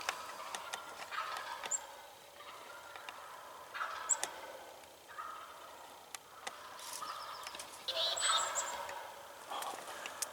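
Wild turkey gobblers gobble repeatedly during a Wisconsin spring hunt, several rough rattling calls from birds at a moderate distance in quiet open woods, with brief pauses between bursts.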